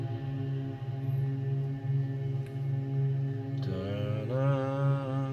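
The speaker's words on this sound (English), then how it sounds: "So what you're hearing is the guitar chord." A guitar chord run through a granular synthesizer, sounding as a sustained layered tone with steady harmonics that shifts into a brighter, wavering texture near the end; no voices.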